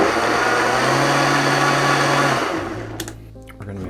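Blender whirring steadily as it purées gazpacho with jalapeño and salt in a kitchen, loud and continuous motor hum that winds down near the end as it is switched off.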